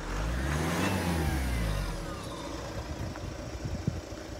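A Renault Megane GT's engine revs up hard nearby, then the roar drops away to a rough, lower rumble with a few faint knocks.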